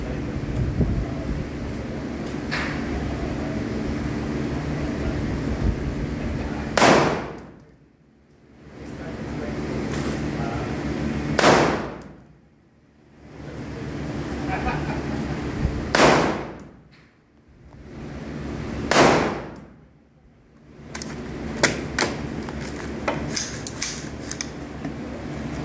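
AR15 rifle shots at an outdoor shooting range ring out as four or five sharp, widely spaced cracks over steady wind and background noise, each shot followed by a brief dip in sound.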